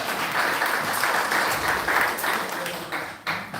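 A crowd at a 90th birthday celebration applauds the honoree, dense steady clapping from many hands filling the room for a few seconds, dipping briefly near the end.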